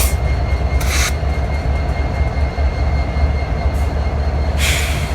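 BNSF intermodal freight train passing on a cool morning, a heavy continuous low rumble of wheels and cars, loud and close, with brief hissing bursts near the start and end.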